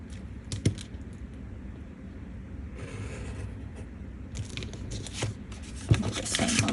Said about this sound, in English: we're gonna take your X-Acto knife and you're gonna cut that slit.